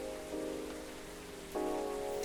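Steady rain falling in the café game Coffee Talk, set in Seattle: a soft continuous patter with faint tonal music layered underneath, no voices.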